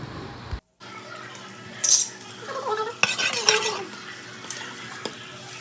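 Salt being stirred into a wet masala, with soft scraping and clinking of a spoon against the pot, a brief rattle near the start and light kitchen clatter throughout, no talk.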